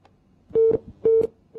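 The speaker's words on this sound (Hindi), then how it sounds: "इन सज्जन दी कॉल कटी गए।" A dropped telephone call on a radio show line gives way to a busy signal, three short repeating beeps in an even rhythm, loud and clear with no talk.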